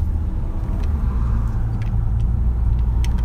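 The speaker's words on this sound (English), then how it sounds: "Look at all the cars." Several cars roll past close by near a beach, a steady low rumble of road traffic with tire and engine noise and no talking.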